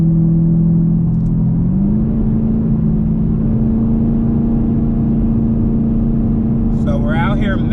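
A Procharger-supercharged Chevrolet Camaro SS V8 climbs slightly and then holds a steady droning rumble with a whining tone at 3,500 RPM, loud and continuous, as a voice briefly starts talking near the end.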